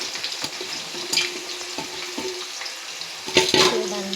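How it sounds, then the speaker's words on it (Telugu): Bitter gourd pieces frying in hot oil for a chutney, giving a steady close sizzle with a few sharper crackles and utensil knocks, and a louder burst of spattering near the end. "ఇంకొన్ని కాకరకాయలు ఉన్నాయి కదా, వీటిని కూడా ఫ్రై చేసుకోవడానికి ఆయిల్లో వేస్తున్నాను."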